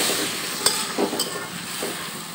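Fried spices with salt and green chilli being stirred in a pan: a constant sizzle under a few sharp clinks and scrapes of the spoon, close by, with no speech.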